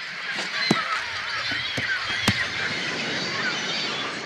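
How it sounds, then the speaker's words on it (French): A dense seabird colony of pelicans, boobies and cormorants on Peru's guano islands fills the air with overlapping honking calls, a few sharp cries standing out over a constant clamour. "des millions d'oiseaux colonisent les îles péruviennes"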